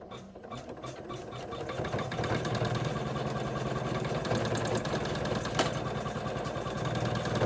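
An embroidery machine stitches a zipper bag on its final step, a close, fast, continuous mechanical chatter with a steady low hum running throughout.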